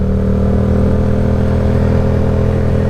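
A 2018 Yamaha MT07 motorcycle riding through a town, its engine giving a loud, steady close-up drone with a constant low hum and no noticeable revving.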